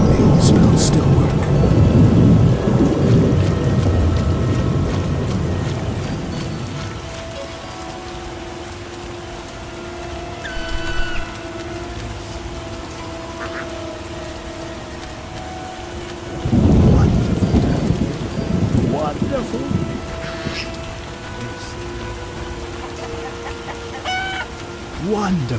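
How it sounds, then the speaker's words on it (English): Heavy rain pours in a Witcher video game storm, with a deep rumble of thunder rolling in early and a second burst later. Game dialogue and other voices talk over the steady downpour. "Wonderful downpour."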